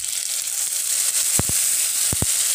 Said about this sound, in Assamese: এখিনি অকণমান মই ভাজি লম